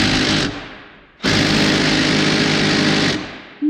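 Impact wrench hammering at a snug sway bar end link nut on a lowered GMC Yukon Denali, two loud sustained bursts of rattling power-tool noise with a short pause between them, close up.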